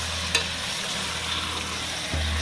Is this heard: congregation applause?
no